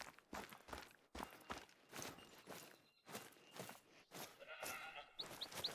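Feral goats bleat in theHunter: Call of the Wild video game amid loud, rhythmic footsteps crunching close by, with short bleats near the end; no talking.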